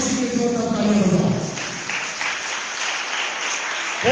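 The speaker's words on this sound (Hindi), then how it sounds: "यीशु मसीह के जोरदार तालियां बजाओ।" Clapping from a congregation during a church service, starting under a voice and a held sung or spoken tone, then continuing alone as a dense, steady patter.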